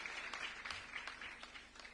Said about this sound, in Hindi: मैं जोरदार तालियों से चाहूंगा खूबचंद पारेख जी का सम्मान करें।